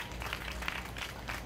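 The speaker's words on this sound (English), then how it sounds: "Let's give a hand clap." Audience at a NARD NYC 2016 event gives sustained hand clapping, a dense steady patter of applause throughout with no talk over it.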